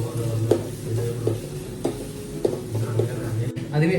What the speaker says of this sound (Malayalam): സവാള എന്ത് ചെയ്യാം ഇട്ട് കൊടുക്കുക. നന്നായിട്ട് ഇളക്കിയുള്ളത്.